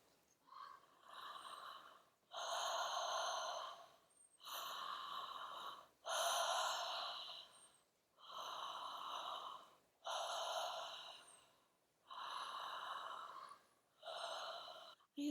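Deep, full breaths from a guided breathing exercise, slow and regular with long airy inhales and exhales alternating with brief pauses, close and fairly soft.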